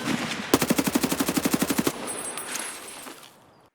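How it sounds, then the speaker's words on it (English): A rapid burst of automatic gunfire in Escape From Tarkov, about fifteen evenly spaced shots, followed by a fading echo and faint background noise. "there's also been constant automatic gunfire originating from this spot for the past 5 minutes"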